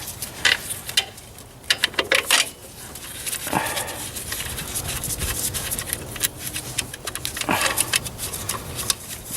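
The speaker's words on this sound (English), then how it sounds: "Take this bolt off so we can wiggle around." A ratchet works a bolt loose on a 1990 Ford F-Superduty during fuel filter water separator repair, with irregular clicking and metallic clatter close by, bursts of quick clicks between pauses.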